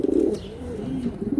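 Racing pigeons coo loudly and close by, a throaty rolling burble that swells at the start, dips, then rises again at the end.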